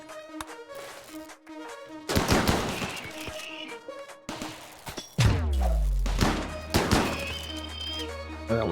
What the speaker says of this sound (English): I'm getting pegged by mini turrets here.